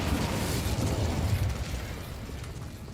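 A rushing, crackling burst of the Incendio fire spell in Hogwarts Legacy, with a dense roar of flame that holds steady and then fades slightly toward the end. It is loud and has no voices over it.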